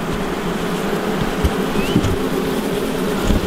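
Fairly large honey bees buzz in a continuous, close drone while a hive is opened for inspection. Scattered soft knocks and bumps from the handling break through the even hum.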